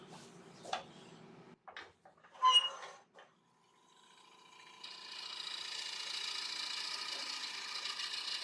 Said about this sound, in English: So I'm going to get it parted off.